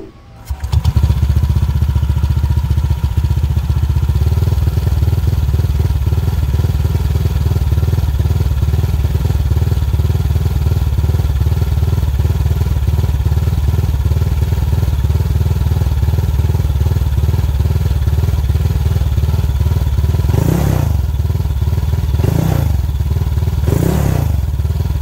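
A modified 2016 Honda Vario 125 scooter engine idling close by, a loud steady drone that starts abruptly and holds even, with a few short blips of throttle near the end.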